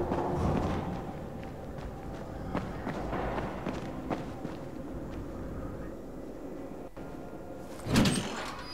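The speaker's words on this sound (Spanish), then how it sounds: "Chingona la puerta del elevador" An elevator door in Dying Light slides open with a mechanical rumble and whir, followed by a loud clunk near the end, amid footsteps and ambient game noise.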